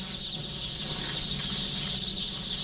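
Chicks and hens in a laying-hen farm give a continuous dense chorus of high peeping over low clucking, steady and unbroken throughout.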